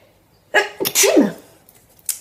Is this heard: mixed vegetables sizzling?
no